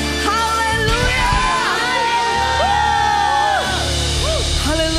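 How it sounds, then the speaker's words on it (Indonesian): Church congregation cheering, whooping and shouting hallelujah during worship, a loud sustained crowd roar with overlapping yells and high whoops, voices rising and falling throughout with music underneath. "Yang bersuka cita sekali lagi sorakan haleluya."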